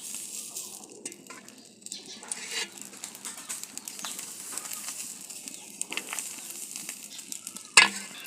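Chitoi pitha batter cooking on an oiled five-cup iron griddle, a faint, soft sizzle running steadily throughout, with a sharp clatter near the end.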